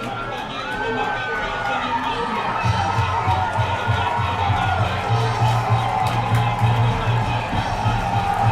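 A varsity football playoff crowd at a stadium cheers and shouts in a sustained roar that builds after the first seconds. A commentator talks over it.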